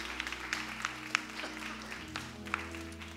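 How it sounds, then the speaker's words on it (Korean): Scattered clapping from a church congregation at a Thursday worship gathering, light and uneven with a few sharper claps over a low sustained background tone. "우리 하나님께 박수 영광 돌리십시다."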